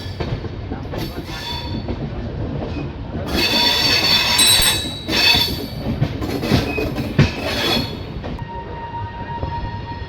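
The Bhubaneswar–Howrah Jan Shatabdi Express rolls into platform 7 at Kharagpur station in the morning, with a loud continuous rumble of wagons, rhythmic wheel clatter and bright, sustained metallic squeals of braking wheels swelling and fading.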